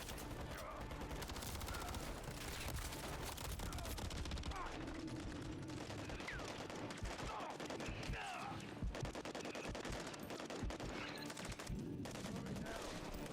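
Dense, continuous gunfire from a Call of Duty: Modern Warfare III battle, with overlapping rapid automatic bursts and sharp shots forming a loud, unbroken wall of combat noise.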